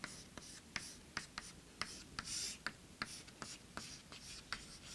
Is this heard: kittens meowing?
no